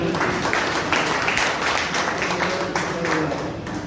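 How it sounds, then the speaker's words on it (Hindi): A steady wash of audience clapping fills a product presentation hall, dense and continuous for a few seconds with no clear pauses. "इसके लिए जोरदार ताली।"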